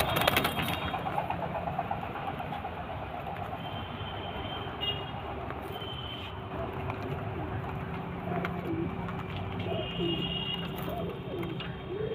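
Pigeons cooing steadily in the background amid a constant hum of ambient noise, low and continuous throughout.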